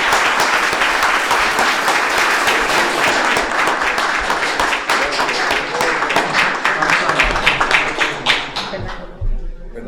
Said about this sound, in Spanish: Así que un aplauso para el profesor Fuenzalida.